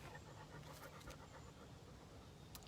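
Close, steady panting comes from a female dog outdoors, with short rapid breaths repeating evenly against soft outdoor ambience and no voices.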